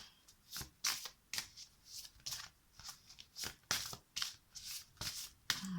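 A deck of tarot cards being shuffled by hand close up, quiet riffles and slides repeating in short irregular bursts with brief pauses between them.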